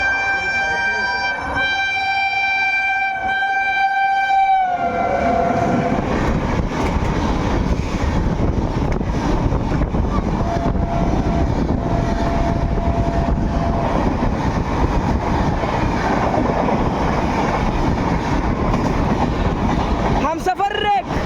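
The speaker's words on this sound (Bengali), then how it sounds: "13145 কলকাতা রাধিকাপুর এক্সপ্রেস" The 13145 Kolkata–Radhikapur Express rumbles past with steady clattering of wheels and wagons, loud and close for about twenty seconds, opening with a drawn-out horn blast and a brief horn near the end, while people talk nearby.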